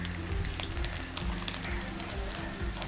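Ten garlic cloves fry in hot cold-pressed sesame oil, producing a dense, steady close sizzle with light stirring underneath.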